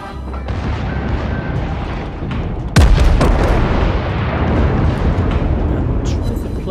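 Battleship secondary guns firing in the World of Warships game, a booming low blast with a sharp crack near the middle, over a continuous rumbling battle din and a speaking voice.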